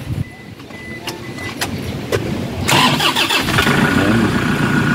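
A 2011 Toyota Hiace commuter van engine cranks with a few quick clicks, then catches and settles into a loud, steady idle close by, with brief voices in the background.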